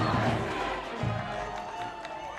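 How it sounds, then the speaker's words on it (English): A crowd roars at a UCLA vs USC women's water polo game, sustained loud cheering filling the venue, with an announcer's voice talking over it. "Crowd is on its feet at this moment. The cheers are loud."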